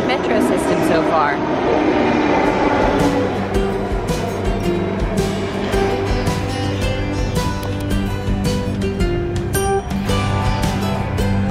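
A Delhi metro train runs along the line with a loud rumbling, rattling ride noise and squealing tones from the rails, steady throughout, with people talking over it.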